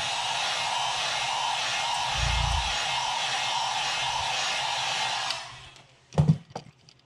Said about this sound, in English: I'm just going to go ahead and heat set that.